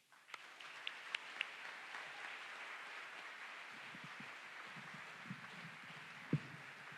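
Crowd applause welcoming Councilmember Shama Sawant at a rally, a steady wash of clapping from a sizable audience that holds evenly throughout, with a few sharper individual claps and a brief thump near the end.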